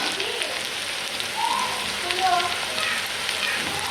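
Tilapia fish frying in oil until crisp, a steady crackling sizzle like light rain, moderately loud and continuous with faint background sounds.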